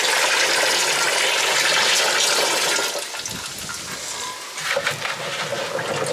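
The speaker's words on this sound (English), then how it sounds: "I'm just going to pour the rest of the brine that we made earlier in on top of the black olives." Homemade brine poured over black olives in a jar outdoors, a steady rushing splash of liquid that softens into a gurgling trickle and then splashes again.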